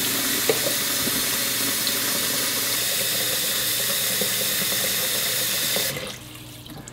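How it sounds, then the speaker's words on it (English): A gallon of water runs steadily into a fermenting crock for sweet potato fly, a continuous loud splashing pour that stops abruptly near the end. "Here's a gallon of water."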